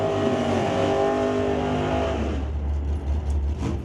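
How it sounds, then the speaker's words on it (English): A Camaro and a 1977 Pacer launch hard on a drag strip at an NHRA Northwest National Open Series race, roaring loud at first and then fading as they run away down the track. "There goes Rick McKinney to run him down"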